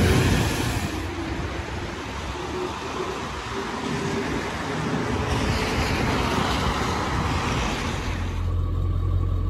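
A school bus engine rumbles steadily at idle, a low continuous drone with some rattling, close by and unchanging.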